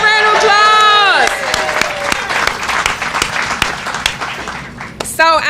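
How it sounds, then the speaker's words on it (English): Outdoor audience at a groundbreaking ceremony applauding, a loud dense wash of clapping with some cheering, opening over a fading musical tone and ending with another brief tone. "Let's start with a round of applause."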